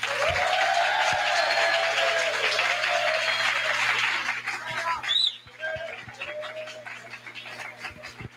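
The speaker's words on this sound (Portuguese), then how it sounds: "Vamos acolhê-las com uma calorosa salva de palmas." Warm audience applause fills a conference hall at an academic panel session, a dense steady clapping that fades after about five seconds into quieter room sounds with scattered brief noises.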